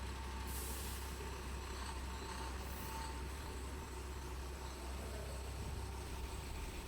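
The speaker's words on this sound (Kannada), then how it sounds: "ನೆಕ್ಸ್ಟ್ ಗಾಡಿ ಬಂದಿತ್ತು ನೋಡ್ರಲ್ಲ ಆ ಕಡೆ ಯಲ್ಲಾಪುರ ಡಿಪೋದವ್ರದ್ದು." Buses pull in at the Byndoor bus stand with a hiss of air brakes over a steady low engine rumble. The engine noise is continuous and fairly distant, with two brief bursts of air and no voices.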